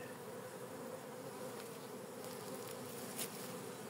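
A honeybee colony buzzes around busy hives at the first inspection of the year, a dense, steady hum of many bees, fairly faint and continuous with no voices.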